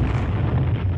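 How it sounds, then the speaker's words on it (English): A deep, sustained rumble from demolition charges going off in a shallow valley, heavy and loud, rolling for the full second with no voices over it. "Pierce activates the charges, causing an explosion that is heard all across the shallow valley."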